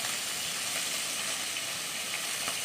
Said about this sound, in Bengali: লঙ্কাটাও মাছের সঙ্গে ভেজে নিতে হবে